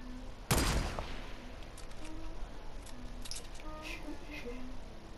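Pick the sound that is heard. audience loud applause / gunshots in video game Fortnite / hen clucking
gunshots in video game Fortnite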